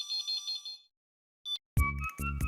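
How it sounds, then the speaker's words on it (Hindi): A telephone rings with an electronic ringtone, a short warbling tone then a brief beep, followed by a louder, fuller ringing melody at close range. "बहुत जल्दी फोन उठाइए।"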